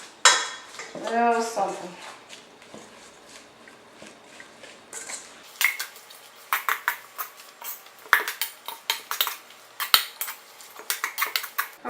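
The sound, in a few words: stirring cabbage coleslaw in bowl with wooden spoon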